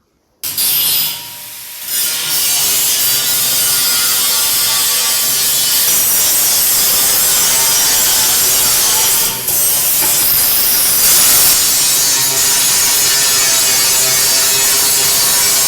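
Steel being ground down for a sheep feeder trough repair, a loud continuous abrasive grinding roar held almost without a break for several seconds, with only brief dips in intensity.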